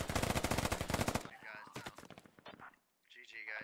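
Sustained automatic gunfire in the tactical shooter Squad, a dense rapid stream of shots that breaks off into scattered single and short bursts at varying distances, with brief quiet gaps and faint voices in between.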